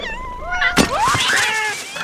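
A cat in an animated film lets out a loud, wavering yowl after being shot with a crossbow, rising and bending over about two seconds with a sharp thunk near the start.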